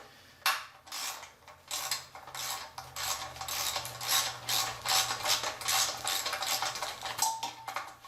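A ratchet works on bolts of a Nissan 300ZX Z32 plenum, giving repeated bursts of quick metallic clicking close by, with short pauses between strokes.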